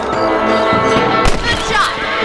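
Rifle shot fired at rabbits in the Red Dead Redemption video game, a single sharp report partway through over steady game music and ambience.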